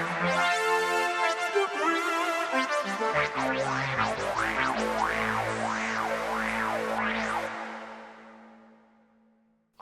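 Electric guitar run through a Boss SY-1000 with reverse delay and a dotted-eighth delay, with swelling, rising and falling sustained tones, repeating echoes and a fading tail, played alone without talk.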